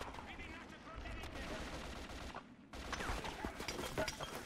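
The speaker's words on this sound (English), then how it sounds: "I got explosive round." Explosive rounds fired in the 50 Cent: Blood on the Sand video game, a dense rattle of automatic shots with heavy low thumps, a brief pause, then another louder burst of firing.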